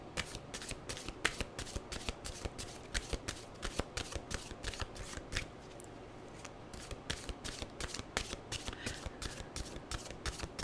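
A deck of mystical wisdom oracle cards is shuffled in a steady, rapid riffle of papery flicks and soft slaps, close and continuous with a brief pause midway.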